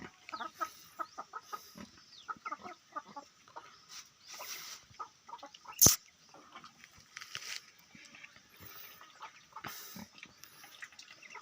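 Chickens clucking in quick, scattered bursts, fairly faint and nearby, with one sharp sudden click partway through.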